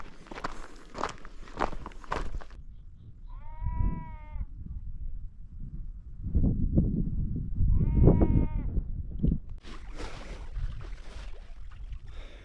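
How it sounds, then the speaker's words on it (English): A lamb bleats in short wavering calls on a rocky coastal path during wild camping, two clear bleats a few seconds apart between footsteps crunching over ground, with a person talking briefly at the start and end. "Hello baby sheep, how are you?"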